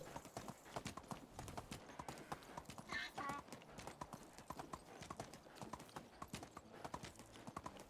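Horse hooves clip-clopping at a steady walking rhythm while riding in the medieval game Medieval Dynasty, crisp repeated hoofbeats with a brief whinny midway.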